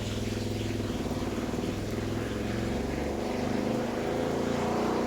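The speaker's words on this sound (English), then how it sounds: "I think you might want to look at that exhaust, because I definitely don't think that's legal" Loud car exhaust with a steady, rumbling low drone that swells slightly toward the end, heard close and continuous with no talking over it.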